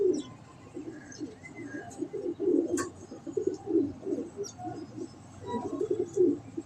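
Slate-grey breeder pigeons coo in a continuous, rhythmic run of low throaty calls, close and clear, with a few faint chirps in the background and no talking.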